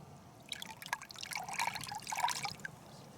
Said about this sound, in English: You see how it's like barely dripping?